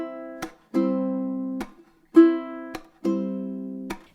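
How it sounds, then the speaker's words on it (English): Strummed chords on a stringed instrument alternate with sharp percussive taps on the strings, in a clear rhythm of ringing strums cut off by muted slaps. The playing is close and clean, with no talking. "What happens is that I'm strumming and then I'm going to tap"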